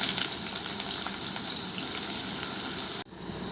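Chopped onions hit hot oil with tempering spices in a kadai, giving a loud, steady sizzle that stops abruptly near the end.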